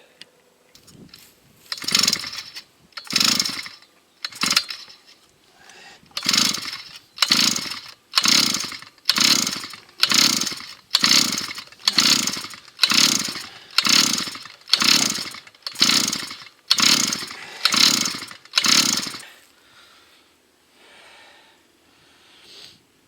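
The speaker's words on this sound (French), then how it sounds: "tirer plusieurs fois sur la commande pour avoir la pression" A brushcutter engine is cranked by roughly sixteen steady, evenly spaced starter-cord pulls during a compression test, each pull a loud rasping whoosh, before the sound stops and only faint room noise remains.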